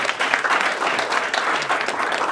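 An audience at a Korea–China venture forum breaks into dense, continuous applause, many hands clapping together at close range.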